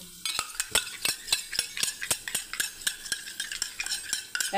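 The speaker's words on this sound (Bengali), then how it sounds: "দইটাকে আমি ফেটিয়ে নিচ্ছি ভালো করে।" A whisk or spoon beats yogurt in a bowl in fast, regular clinking strokes, about four per second, crisp and close with no talking.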